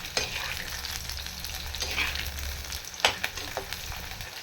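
Garlic frying in a pan for garlic dosa, with a steady sizzle and occasional scrapes and clinks of a spatula stirring, close up and without speech.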